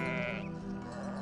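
One sheep lets out a single close, wavering bleat lasting just over a second, heard on its own with no talk.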